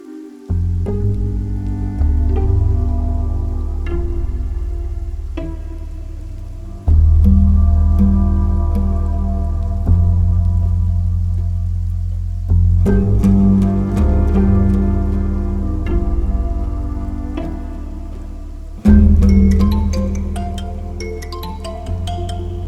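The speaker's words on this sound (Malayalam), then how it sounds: "ഇതെന്താ ഇപ്പം ഇങ്ങനൊരു മഴ?" Steady rain patters and hisses on a surface, continuous and fairly loud, with occasional heavier drips and rumbles.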